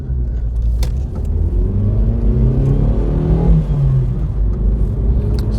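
Car engine, apparently a Vauxhall Astra F or Ford Escort Mk6, accelerating on an open road: a smooth, steady mid-pitched hum with rising rev tones climbing through the gears, heard from inside the cabin with no talking.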